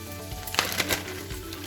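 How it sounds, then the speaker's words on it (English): A beef roast sears in a pan on the stovetop for braising, giving a steady broad hiss with a few sharper pops and crackles, fairly close and even throughout. "so we can sear the roast. This is stovetop braising that we're going to do"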